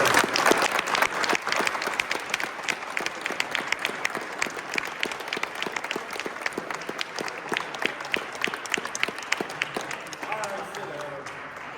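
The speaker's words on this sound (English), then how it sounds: "Let's give them a round of applause for what you do" Families at a cadet academy graduation give a round of applause, sharp distinct claps rolling on for about ten seconds before thinning out as a voice begins.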